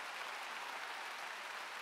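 Applause from a large church revival congregation in a gymnastics arena, a soft, dense wash of distant clapping that holds steady without talk.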